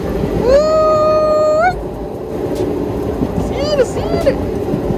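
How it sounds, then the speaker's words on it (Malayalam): A passenger train travels through heavy rain, making a constant broad rushing rumble. A long, steady horn-like tone sounds early on, and a voice talks intermittently over the noise. "ട്രെയിനിൽ ഇങ്ങനെ യാത്ര ചെയ്യുമ്പോ മഴ ചെയ്തിങ്ങനെ പോകുന്നു"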